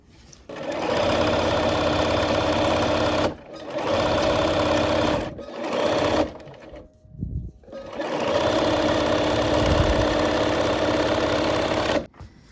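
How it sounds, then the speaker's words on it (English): Sewing machine stitching a red gingham fabric strip, loud steady whirring runs broken by several short pauses and a brief stop midway, close and without talk. "we're going to go ahead and sew the red, another red gingham strip on the other side"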